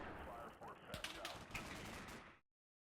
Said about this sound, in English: That salvo of grenades, I think,